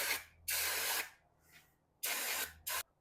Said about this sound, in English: Set your valve aside and spray your valve seat.